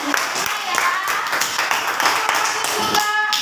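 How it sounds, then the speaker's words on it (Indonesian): Children clapping their hands in a classroom teaching session, a dense run of sharp claps with voices over it. "Pindah tepuk tangan."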